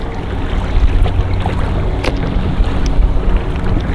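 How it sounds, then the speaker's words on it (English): A kayak fitted with an outboard motor runs while being paddled, giving a loud, steady rumbling drone mixed with wind buffeting against the microphone and a few faint splashes. "I can paddle and motor at the same time"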